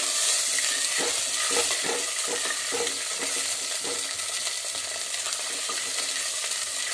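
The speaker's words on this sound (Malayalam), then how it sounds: "ഞാനിവിടെ പുളിവെള്ളം ഡയറക്റ്റ് ചേർക്കും" Tamarind water splashes into a hot pan for a ghee fish curry and hisses into a loud, steady sizzle, with a few stirring scrapes and clinks in the first seconds before the frying settles into a continuous roar.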